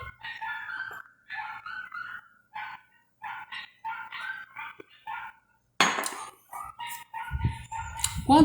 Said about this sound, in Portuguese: tem uns cachorros latindo lá fora